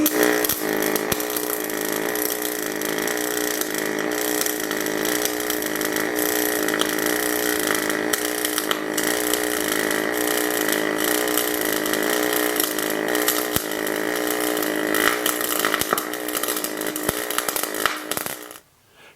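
A steady, loud buzzing crackle of pulse spray transfer MIG welding on 16 gauge mild steel with 90-10 gas runs continuously for most of the clip, with occasional pops, then cuts off at the end.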